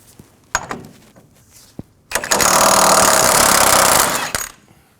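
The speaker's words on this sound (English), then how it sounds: "Using a 1 11/16 socket, we're going to remove the Pitman arm nut." A 1 11/16 socket on an impact wrench breaks loose and spins off the Pitman arm nut on a 2019-2025 Ram 2500, giving a loud, steady two-second mechanical whir after a few sharp clunks, then tapering off with more thuds.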